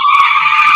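A voice imitates the burnt-rubber tire skid of a V8 car, a short, loud, shrill squeal held steadily for under a second.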